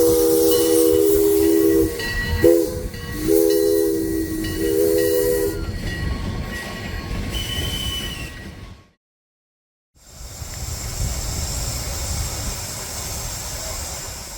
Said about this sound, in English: The second day dawns with the sound of steam in the air